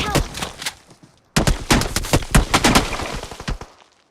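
Rapid bursts of video game gunfire crackle in dense volleys, a short lull near the middle then a sustained fusillade of overlapping shots that fades out at the end.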